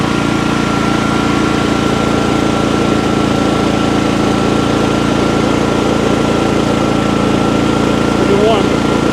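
A Champion 8750 tri-fuel generator engine runs steadily outdoors in cold weather, a loud continuous low hum with a constant mechanical drone and no breaks.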